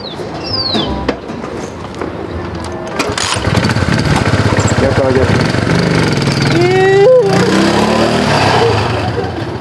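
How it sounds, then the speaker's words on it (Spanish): A motorcycle engine sputters and catches, then runs with a steady, loud rumble while people talk nearby. "prender la moto nomás."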